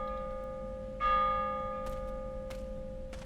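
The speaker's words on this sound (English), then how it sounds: "I like that you can hear other bells in the sample." Church bells from a video game sample: a steady tolling tone that swells sharply at one point, with fainter bell strikes from other bells coming through in the background.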